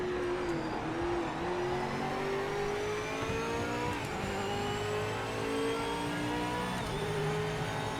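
Race car engine on a pole lap in Project Motor Racing at Bathurst, a continuous high revving drone with rising and falling pitch through gear changes, loud and steady throughout with no talk.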